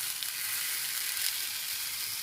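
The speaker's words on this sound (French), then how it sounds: "Donc là on va les faire chauffer à la poêle." Sausages for hot dogs sizzle and fry in a pan, a steady dense crackle of hot fat spitting close up with no talk.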